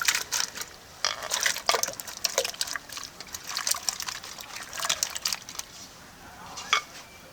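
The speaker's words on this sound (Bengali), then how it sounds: "জলটা গরম হয়ে গেছে এর ভিতরে কেটে নেওয়া আলুগুলো দিয়ে দিচ্ছি" Cut potatoes slide into hot salted water in a saucepan, giving a string of splashy drops and trickles with soft clinks, close and fairly quiet, with no voices.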